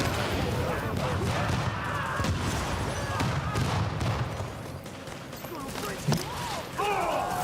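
Muffled explosions and booming impacts rumble in The Division video game amid busy combat noise, while voices talk over the action throughout.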